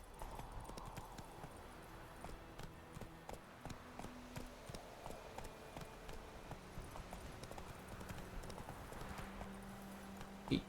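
Roach, Geralt's horse in The Witcher 3, trots along with a steady, soft clip-clop of hooves repeating evenly throughout, fairly quiet and unaccompanied by talk.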